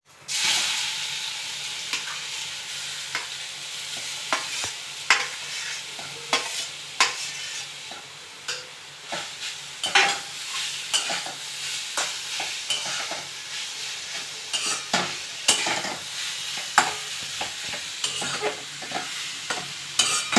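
Carrots frying in a pan, stirred with a spatula: a continuous sizzle punctuated by frequent sharp scrapes and knocks in an irregular rhythm, close and clear, with no talking.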